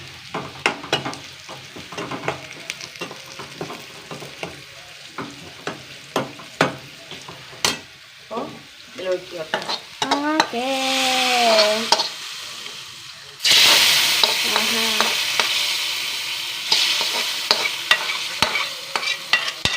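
Curry leaves and chili fry in hot oil, starting with quick spoon taps and light sputtering, then a sudden loud surge of sizzling that continues steadily, close by and with no talk.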